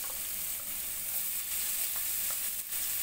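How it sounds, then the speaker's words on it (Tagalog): Garlic and then onion sauté in a hot pan, giving a steady, bright hiss of frying oil with a few soft stirring clicks, moderately close and with no talk. "So, igisa lang natin to."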